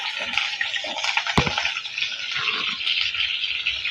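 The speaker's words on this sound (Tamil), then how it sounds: "சேர்த்துட்டு இப்போ வதக்கி விட்டுக்கலாம்" Chilli and curry leaves sautéing in a pan with onion: a steady sizzle and hiss with a sharp scrape or knock partway through, close and alone without talk.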